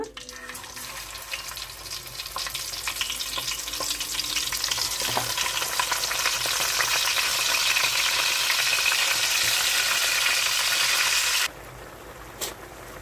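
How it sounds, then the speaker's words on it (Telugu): Brinjals hit hot oil in a pan, and the frying builds into a loud, steady sizzle that holds for several seconds before dropping sharply to a quieter crackle near the end. "ఆయిల్ వేడవింది ఇప్పుడు వంకాయలు వేసుకుందాము"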